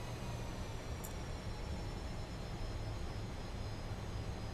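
Steady jet engine roar from a Fokker F28 airliner in Microsoft Flight Simulator, a constant broadband rumble with a faint whine, continuous and unbroken with no talking.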